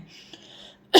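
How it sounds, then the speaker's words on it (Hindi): A single loud, abrupt cough from the person recording, bursting out near the end after a quiet stretch with no talking. "पता नहीं क्यों वीडियो बनाते के टाइम ज़्यादा खांसी आती है"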